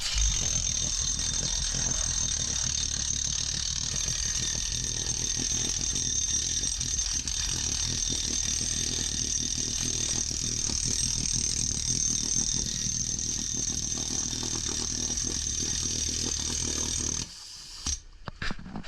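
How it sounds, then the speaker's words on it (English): A red CP14 pneumatic hammer drill drills underwater in a continuous mechanical hammering drone with a rapid rattling pulse, running steadily for a long stretch, then cutting off abruptly near the end. "I handed him down this red CP14 pneumatic powered hammer drill"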